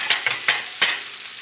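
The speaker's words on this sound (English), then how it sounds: "I just want to let all of these veggies, potatoes, beautiful ingredients cook a little bit before I add the eggs to it" Vegetables and potatoes for a frittata sizzle in a hot pan, a close, steady frying hiss broken by four quick stirring scrapes.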